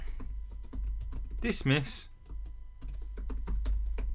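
A name being typed on a computer keyboard as a run of quick, close key clicks, with a voice talking briefly partway through.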